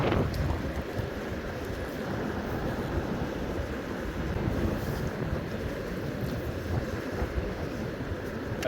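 Strong gusty wind in the mountains beside the Colorado River, a constant low roar buffeting the microphone throughout with no talking.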